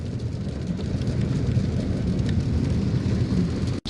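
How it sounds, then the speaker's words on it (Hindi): Heavy rain pours steadily in a thunderstorm, a dense continuous roar close by with no clear separate thunderclap standing out. "अभी बारिश हो रही है। मौसम बहुत अच्छा हो रहा है और कड़क बिजली भी गिर रही है"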